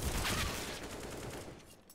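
Gunfire in a shooter game, a dense burst of rapid shots that rattles loudly at first and then trails away into quieter distant fire.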